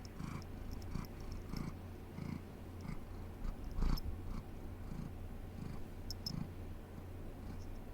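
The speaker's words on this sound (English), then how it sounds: "Purr for the mic. Purr for the fans." A cat purrs close to the microphone in a soft, steady rhythmic rumble that keeps going throughout with no talking.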